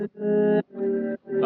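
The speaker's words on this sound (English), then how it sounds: "I added a guitar and the guitar sounds like this." Electric guitar played through effects, sounding three sustained, chorused and slightly distorted chords in quick succession with brief gaps between them, produced for a song arrangement.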